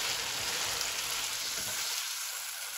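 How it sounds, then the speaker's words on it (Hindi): Cow head (beef siri) curry sautés in a pan with spices and ground green chilli, giving a steady, close, dense sizzle with a low rumble that drops away in the last second. "4 से 5 मिनट हम इसको भूनेंगे"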